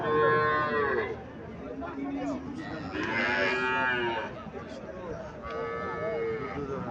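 A Haryana-breed dairy cow moos several times in long, wavering calls close by, with other low bellows and background voices between them.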